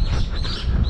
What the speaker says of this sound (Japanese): 鳥も喜んでおります。